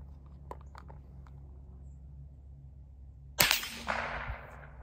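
Single sharp crack of a .22 round fired from an M6 multi-caliber survival rifle outdoors, one loud close shot after quiet, followed by a brief ringing echo.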